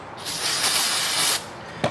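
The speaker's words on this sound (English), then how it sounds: "get some carburetor spray, spray this" A can of carburetor cleaner sprays in one long, loud hiss lasting about a second, followed by a brief second spurt, while cleaning brake parts on a Toyota Highlander.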